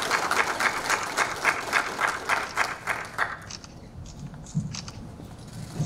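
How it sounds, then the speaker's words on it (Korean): An indoor audience at a Liberty Korea Party safety meeting claps in welcome, a moderate burst of applause that fades out after about three seconds, leaving faint room noise and scattered claps. "모두 큰 박수로 맞이해 주시기 바랍니다."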